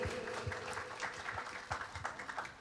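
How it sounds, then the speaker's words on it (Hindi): An audience claps for a karaoke singer at a stage music program, the applause faint and distant with uneven individual claps rising and falling throughout. "जोरदार तालियां हो जाए एक बार फिर से कमलेश जी के लिए।"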